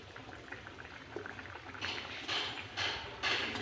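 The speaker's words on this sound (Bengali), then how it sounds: "এবার এটাকে একটু ফুটতে দেব।" Fish curry of rohu with ripe tomato and potato simmers in a pan, a quiet, steady bubbling with soft pops that swell into louder gurgling bursts near the end.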